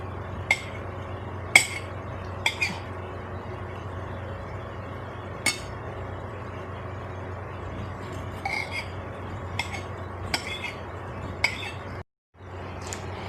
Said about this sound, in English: Now I will take the peels and I will cut into small pieces